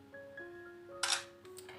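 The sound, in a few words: Oppo Pad Air tablet camera shutter taking photo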